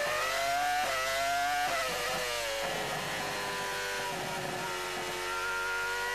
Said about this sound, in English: Let's listen to the Honda engine